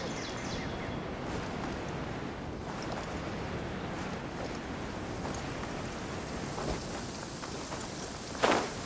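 Heavy rain pours down continuously in the Genshin Impact video game, a dense steady hiss with a sharp louder crack near the end, no voices.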